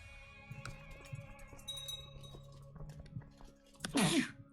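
A single loud, close human sneeze bursts out near the end, over quiet background game music and a low hum.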